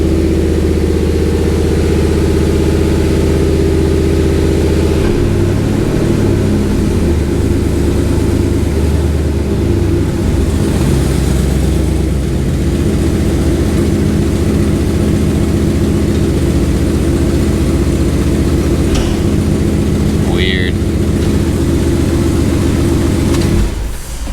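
Steady low engine drone from a 2nd-gen Dodge RAM 1500 with a swapped HEMI V8, running with a faint rev that barely changes the note, close and continuous with no talk.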